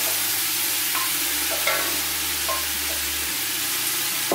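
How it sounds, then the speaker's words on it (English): Diced Anushka potatoes get stirred into sautéed leeks in a pot, a continuous soft sizzle with light scraping clicks of the spoon, close by and without speech. "And now it's time to add my diced potatoes, my diced Anushka potatoes."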